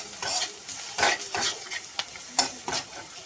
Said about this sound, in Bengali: তো দিয়ে এখন এটাকে নাড়াচাড়া করে নেব।